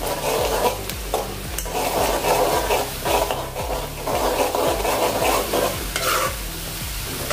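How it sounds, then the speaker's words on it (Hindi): Onions fry loudly over a high gas flame for a Gujarati sev curry, a steady close sizzle overlaid with rhythmic scraping as a spoon keeps stirring them, with no talk. "ऐसे चम्मच से हिलाते रहिए, यानी प्याज जले नहीं।"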